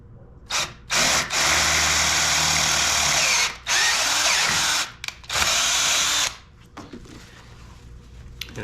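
A power drill taps M6 threads while a DIY CNC Y axis is prepared, running in several loud whirring bursts with short pauses between, then falling quiet at the end.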